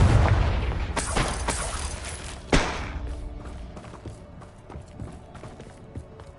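A Confringo blasting spell bursts in the video game Hogwarts Legacy, with a loud opening boom followed by a second sharp impact a moment later, then a fading rumble and scattered thuds.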